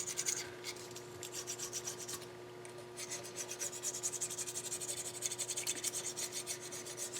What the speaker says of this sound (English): lightly clean with some 200 grit or finer sandpaper